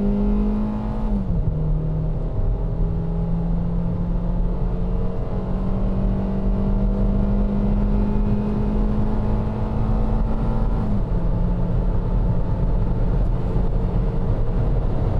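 A Hyundai Solaris engine drones steadily under acceleration while driving, its pitch climbing through each gear and dropping twice at the shifts, with road rumble underneath and no talk.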